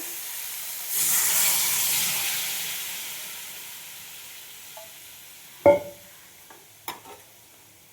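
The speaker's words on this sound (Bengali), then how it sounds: "এবার আমি দিয়ে দেবো জল," Water is poured into a hot pot of Bengali shukto and sets off a loud burst of hissing steam that slowly fades. A few sharp utensil clatters follow near the end.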